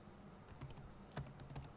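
Quiet, close keystrokes on a computer keyboard while C++ code is typed in Turbo C++, a few soft irregular taps over a low room hum.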